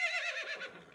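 A pony on a farm gives one short, bright whinny that wavers and falls away within a second, heard close and on its own.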